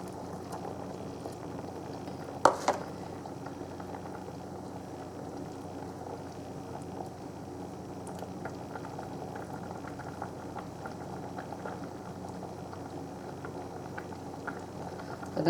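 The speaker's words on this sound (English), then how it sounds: "Gonna boil it for 5 minutes here." A pot of salmon green curry made with soy milk bubbles at a steady simmer, a continuous close hiss of boiling liquid with one brief clatter early on.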